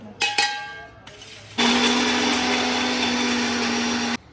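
A few short motor pulses, then a mixer grinder grinding biscuits whirs loudly and steadily for about two and a half seconds before cutting off.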